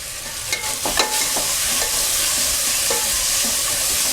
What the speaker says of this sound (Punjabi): ਹੁਣ ਇਹਨਾਂ ਨੂੰ ਭੁੰਨ ਲਾਂਗੇ